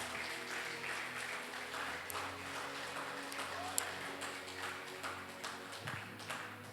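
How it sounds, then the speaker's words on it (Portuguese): A church congregation at a Sunday service claps in a soft, steady patter, distant and faint over a low hum. "Eu queria te convidar a aplaudir a Jesus Cristo por esta palavra."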